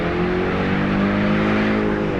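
Engine note of a 2024 Ford Mustang under acceleration, a steady loud harmonic drone heard from inside the car during a drive, rising slightly and holding for the whole stretch without any talk.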